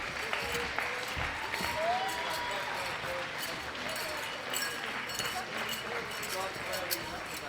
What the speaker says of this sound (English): our athletes a round of applause as they get escorted off the platform